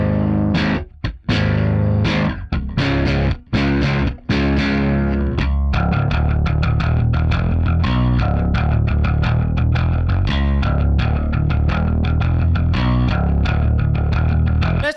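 Heavily distorted electric bass through an emulated Ampeg SVT head and 8x10 Ampeg cabinet with gain near maximum, a dense grinding riff with a few choppy hits and gaps early, then continuous fast picked notes, loud and unaccompanied.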